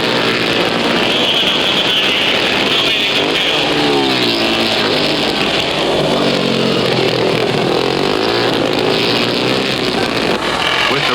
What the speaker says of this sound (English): he's gunning the machine into a drift and keeping the sliding cycle under control by sheer strength